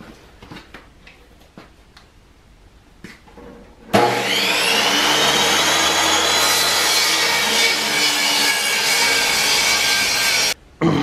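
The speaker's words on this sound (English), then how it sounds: "I'm going to cut some strips off of it" A power saw cuts strips from an old wooden pallet board. A few light taps come first, then a loud continuous whining cut runs for about seven seconds, breaks off briefly and starts again.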